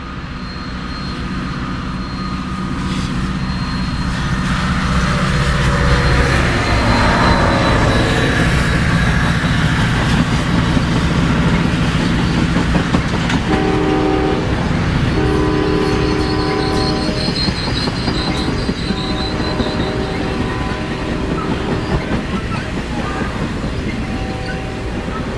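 Santa Fe Southwest Chief passenger train bound for Chicago from Los Angeles, rolling past loud and close with a continuous rumble of wheels and cars, the horn sounding in sustained blasts partway through.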